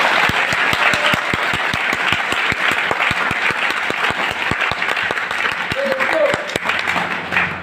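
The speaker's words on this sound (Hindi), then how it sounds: "अपने माँ बाप के लिए तालियां बजा रहे हो तो ऐसे तालियां बजाओ जैसे उन्हें तुम्हें बजाना है।" A large audience applauds steadily, dense sustained clapping with some sharper individual claps standing out, loud and close, with a few voices faintly audible underneath.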